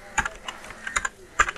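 Keys tapped on a computer keyboard in short irregular bursts, a handful of crisp clicks at close range over near silence.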